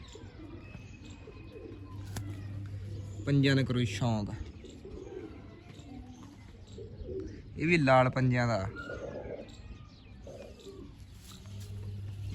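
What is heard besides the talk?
pigeons cooing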